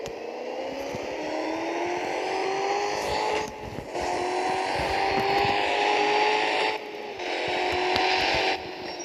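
Car engine in a racing video game droning steadily at high revs, with a bright whine and rising pitch sweeps as the car accelerates, broken by brief dips during gear changes, loud and close with no talk.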